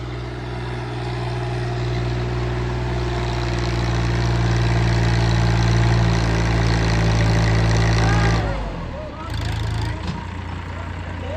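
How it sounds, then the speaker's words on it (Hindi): A farm tractor idles with a steady low rumble and humming tones while working on a village pond embankment, then the engine note drops and shifts near the end as the tractor is moved aside. "ये ट्रैक्टर साइड में हटाया जा रहा है"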